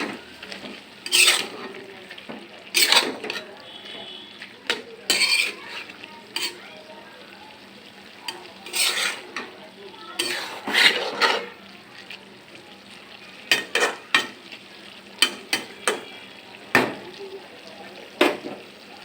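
Dried fish (shutki) fries in a pan while a utensil stirs it, giving irregular sharp scraping strokes and clatters over a soft, low sizzle, with no talking.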